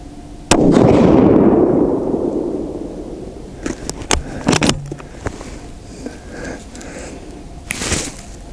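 A Thompson/Center Compass rifle firing Sierra Palma 155-grain bullets gives one loud, sharp shot with a long rolling echo outdoors in wind, followed by a few metallic clicks and clatter of the action.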